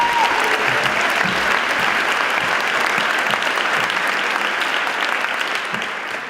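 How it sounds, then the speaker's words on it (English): Audience applause for a student speaker at a school honors ceremony: a full, steady wash of clapping from a large crowd that holds evenly, then begins to fade slightly toward the end. "could you give a big round of applause for our student speaker today, Miss Ria Jindal"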